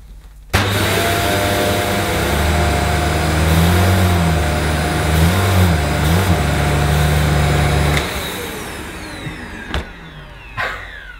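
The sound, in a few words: Shark Lift Away corded upright vacuum on carpet at max suction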